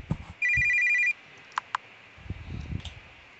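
A video game phone rings with a short electronic trill lasting under a second, followed by a couple of brief clicks and some low, soft background rustle.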